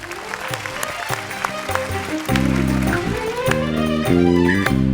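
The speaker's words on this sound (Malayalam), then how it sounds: "എല്ലാവരും കൈയടിക്കണം" An audience claps at a comedy stage show, with a brisk, crowded patter of hands for about two seconds before loud music with singing takes over and continues to the end.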